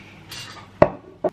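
Dishes clatter in a kitchen sink: two sharp, close clinks of crockery about half a second apart over a quiet background.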